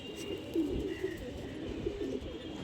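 An old-breed Naptha female pigeon coos softly close by, a couple of low throaty burbles over a quiet background.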